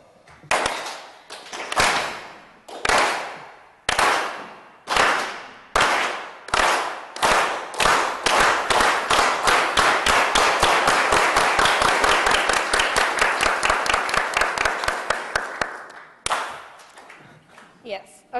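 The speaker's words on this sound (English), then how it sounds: "We are going to start clapping and we're going to clap to the rhythm of our hearts." A group performs the Unity Clap in unison. Loud, sharp claps start slow and evenly spaced, then speed up into a rapid, dense burst before stopping abruptly, with a few final claps after.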